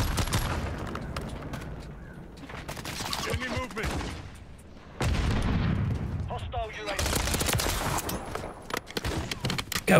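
Rapid gunfire in a Modern Warfare III multiplayer match comes in dense bursts of close shots. Someone talks over parts of it, and the volume surges sharply after a lull halfway through.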